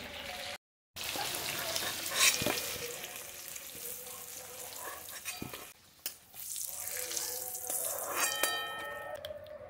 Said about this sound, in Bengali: পেঁপেগুলো ভাজা হয়ে গেছে